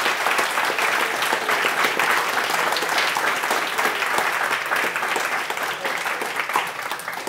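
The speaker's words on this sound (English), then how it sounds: "So let's give a great hand of applause for David." Audience at a live technology event on scent and the future of food applauding warmly, a steady, full burst of clapping from a crowd that continues throughout and eases slightly toward the end.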